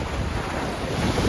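Strong wind buffets the microphone over waves and surf on Lake Chapala in high winds, a steady loud roar with no voices.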